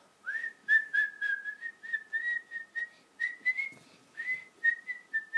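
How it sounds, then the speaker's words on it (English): A person whistles a wavering melody in short, separate phrases with brief pauses between them, close and fairly quiet against a near-silent background. "Guys, listen to me whistle."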